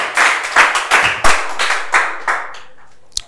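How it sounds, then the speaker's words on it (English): A handful of people clap in quick bursts at a high school, about eight uneven rounds of close, sharp hand claps that fade out, ending with a single louder smack. "Clap for her, she is good!"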